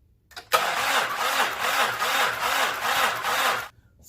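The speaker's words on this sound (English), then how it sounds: "Let's give this a crank." Engine cranked over on the starter during a DIY compression test, a steady rhythmic chug of about eight even compression pulses over three seconds, loud and close with no talking.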